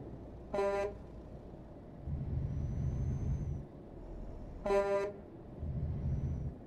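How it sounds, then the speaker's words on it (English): A truck horn in Euro Truck Simulator 2 gives two short, loud honks a few seconds apart, each over a low engine rumble that swells between them. "Just one honk is enough."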